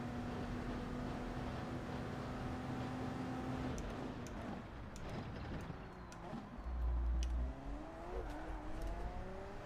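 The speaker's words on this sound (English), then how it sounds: "the worst sounding car in Gran Turismo 7 is the Audi R18. It sounds so quiet." Audi R18 race car in Gran Turismo 7 running quietly with a diesel-like tone, a low, steady engine drone that shifts through gears, with pitch sweeping upward near the end.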